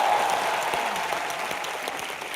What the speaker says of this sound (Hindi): एक बार जोरदार तालियां दादा के लिए भी।